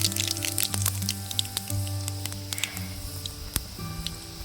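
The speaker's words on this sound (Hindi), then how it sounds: "जखिया और धनिया के दाने चटक चुके हैं, काफ़ी तेल गरम हो रखा था" Crackling and sizzling of jakhiya and coriander seeds popping in hot oil for tempering, with scattered sharp pops over a steady hiss, close up and moderately loud.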